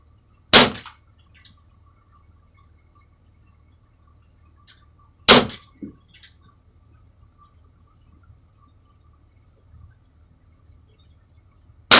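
A Crosman Vigilante air pistol fires sharp, loud cracks, each followed by a faint echoing impact from the target, with long quiet gaps between them and the last shot clipped at the end.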